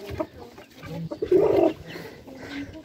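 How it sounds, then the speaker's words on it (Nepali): Local chickens packed in a carrying basket cluck close by, a few short uneven clucks rising to a louder squawk in the middle before settling again. "यो डोकोभरि कुखुरै कुखुरा हो नि त"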